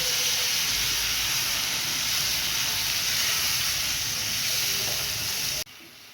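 Tomato, onion and ginger paste frying in a pan, a loud continuous sizzle and hiss throughout that drops off abruptly near the end.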